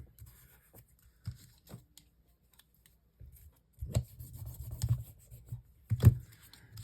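Paper is folded over by hand for a craft decoration, giving soft close rustles and rubbing crinkles in short, scattered bursts, louder toward the end.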